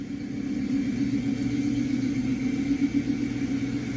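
A Ford 428 V8 in a Country Squire station wagon idles smoothly and steadily, a close, continuous low rumble with an even, soft purr and no other sounds.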